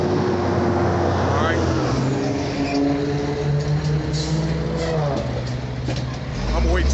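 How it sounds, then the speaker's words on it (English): A truck drives past on a Las Vegas street at the corner of Koval and Harmon, a loud, close engine rumble that builds and swells through the clip while someone talks over it. "I'm gonna wait till this truck goes by"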